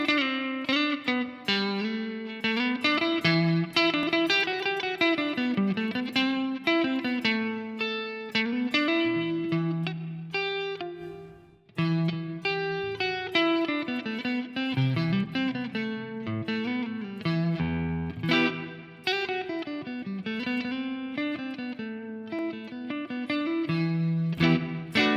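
Single guitar notes ring out through a dark iZotope Neoverb reverb, played as a steady, continuous melodic line with a long, smooth tail, loud and clear with no talking.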